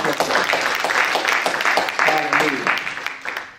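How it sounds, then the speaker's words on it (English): A church congregation claps hands together at a sermon, a lively scattered patter of claps with voices and cheering mixed in, fairly close and loud throughout. "Can we clap hands to the church of God?"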